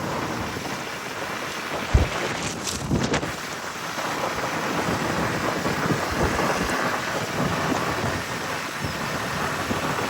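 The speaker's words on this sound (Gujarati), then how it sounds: "વરસાદ" Steady rain falls, mixed with gusty wind buffeting the microphone and a brief sharp thud near the start, in a continuous moderate hiss.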